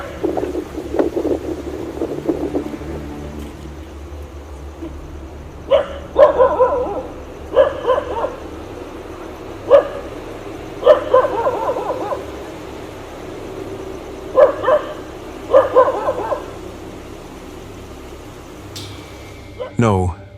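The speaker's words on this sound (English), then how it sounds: "The dogs barked into the distance, while the camera did not record anything specific." Dogs bark in the distance at night, several short separate barks and bursts in an irregular rhythm over a low steady background hum.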